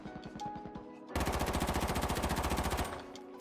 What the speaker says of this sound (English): Every time I shoot the gun, it's gonna do something